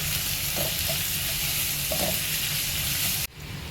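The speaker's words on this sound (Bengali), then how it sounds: "পেঁয়াজটা ভাজবার জন্য।" Onions frying with sugar in a hot pan give a steady, close sizzle with occasional stirring scrapes, then the sound drops abruptly near the end.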